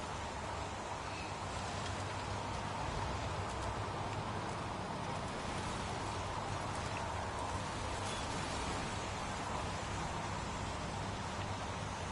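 Steady rain in the PS4 game Heavy Rain at a wasteland crime scene beside a highway, a dense, even hiss of falling drops that stays constant and moderately loud with no talk over it.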